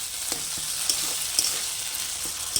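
Strained yogurt sautéing over low heat into rui fish rezala, a steady close sizzle with faint scraping stir clicks scattered throughout, no voices.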